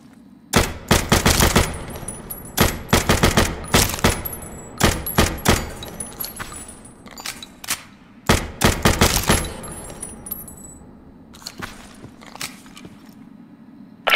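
Pistol gunfire from the tactical shooter game Hired Ops: sharp, loud shots in quick bursts and single cracks spread across the stretch, with brief pauses between volleys and no talking.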